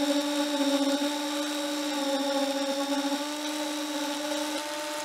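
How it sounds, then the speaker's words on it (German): A concrete vibrator running while it compacts fresh concrete in formwork for point foundations, a loud, steady, high-pitched mechanical whine holding an even drone the whole time, close and alone. "das ist jetzt der Betonvibrator"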